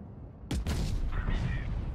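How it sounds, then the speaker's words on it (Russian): A tank gun in the Tanks Blitz video game fires its first shot, a single sudden sharp blast followed by a brief rumbling tail, moderately loud against a quiet background. "Дайте мне сделать первый выстрел."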